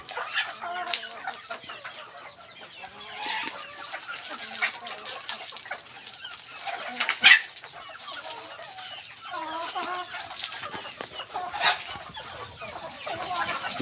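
Thai decoy gamecocks crow and cluck intermittently at moderate distance over a steady outdoor background, with sharper calls now and then and no talk.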